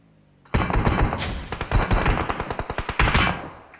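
Rapid automatic gunfire in a video game, loud and close, rattling in fast bursts with a brief pause and a final shot at the end.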